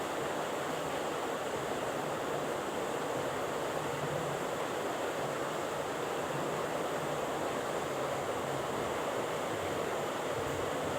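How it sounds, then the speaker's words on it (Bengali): Light wind blowing steadily outdoors, a soft continuous rushing hiss that stays even and unbroken throughout, with no voices. "বাতাস আছে হালকা, আশা করি বাতাসে এগুলো শুকিয়ে যাবে।"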